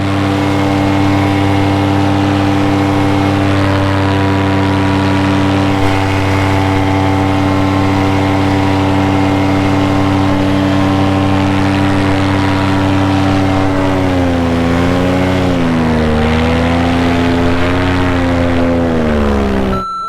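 A paramotor engine drones loud and steady in flight through rough mountain turbulence, its harmonic pitch holding level, then wavering and surging in the closing seconds.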